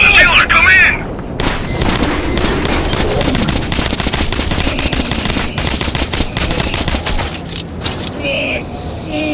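Sustained heavy gunfire in Metro 2033 Redux, dense rapid bursts like machine-gun fire rattling continuously for several seconds, loud and close, with voices shouting over the shooting.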